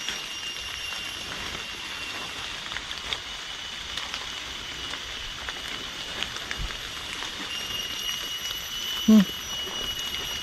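Rain falls in a forest during a predawn mushroom hunt, a steady, faint hiss of drops that continues throughout, with a brief sharper knock near the end.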